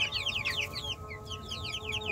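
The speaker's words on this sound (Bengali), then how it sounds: "এই যে এটা হলো সেলেমার বাচ্চা" Young Selema chickens kept with fancy hens chirp and cluck in rapid repeated high calls, several close chicks overlapping over a faint steady hum.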